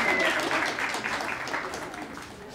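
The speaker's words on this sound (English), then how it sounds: "Now you can applaud." Audience applause at a community event for International Women's Day, a dense burst of clapping from a gathered crowd that gradually thins and fades over a couple of seconds, with a faint tone at the start.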